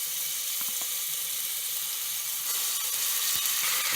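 Ginger garlic paste hisses in hot groundnut oil with a continuous bright sizzle, close and fairly loud, with a few faint clicks and no voices.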